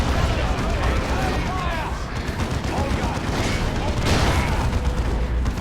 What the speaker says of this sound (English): Yeah, the grenade just got thrown.